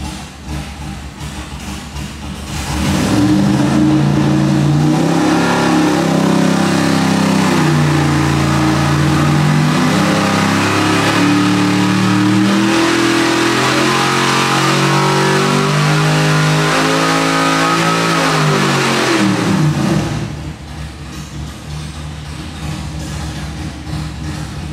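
A 632-cubic-inch big block Chevy V8 of about 1,000 hp runs a full dyno pull, loud and close, its engine note rising steadily for roughly seventeen seconds before it drops back to idle.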